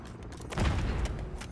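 Grenade explosion in the video game Call of Duty MW3, a heavy booming blast that swells suddenly and rumbles on with broad crackling noise, loud and close, no talking.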